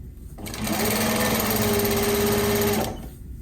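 Sewing machine stitching a box cushion for a pin-fit slipcover, one continuous fast run of stitching for over two seconds, close and loud, with a brief pause before and after.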